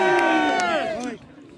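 A crowd at the Cooper's Hill cheese rolling event lets out a loud, close, sustained cheer and whoop that swells and then fades within a second or so.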